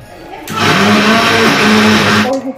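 A kitchen mixer grinder whirs loudly and steadily for about two seconds, starting and stopping abruptly, with a voice faintly audible before and after.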